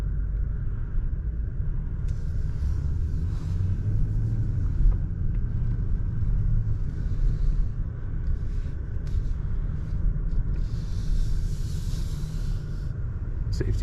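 A new BMW 760i 7 Series driving along, heard from inside the cabin: a steady low road and engine rumble with a faint hiss throughout, no talking.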